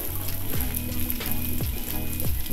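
Okonomiyaki cooks on a griddle at an okonomiyaki restaurant, a steady close sizzle running throughout while repeated swooping tonal sounds recur about every half second.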